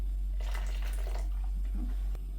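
About 200 to 250 ml of water is poured into a beef stew for a slow cooker, a brief soft splashing pour close by, alone, with a faint low hum underneath.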